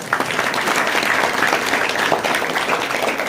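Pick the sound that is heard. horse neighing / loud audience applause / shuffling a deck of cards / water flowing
loud audience applause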